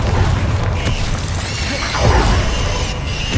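A Confringo fire spell explodes in the Hogwarts Legacy combat, a loud fiery blast swelling into a rumbling boom amid dense, continuous battle noise.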